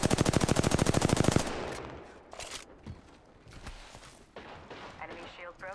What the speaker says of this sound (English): Enemy shield broken. Opening fire.